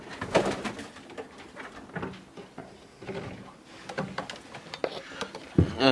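Fantail pigeons coo softly inside a pigeon loft, with low, rolling calls repeating close by, mixed with light shuffling and a few knocks.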